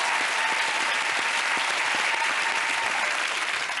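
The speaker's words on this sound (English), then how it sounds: "give them a massive round of applause" A television game show studio audience gives a big, dense round of applause, even and sustained for several seconds with no voices over it.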